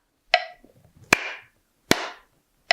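Four sharp hand claps ring out alone in a quiet room, unevenly spaced over a few seconds, each crisp and close with a brief decay.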